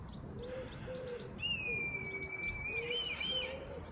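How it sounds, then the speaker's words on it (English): A red kite calls repeatedly from a treetop in thin, high whistling notes, drawn-out and slightly wavering, with lower cooing from another bird and faint outdoor background. "There is a very vocal red kite sitting up there on the top of that tree."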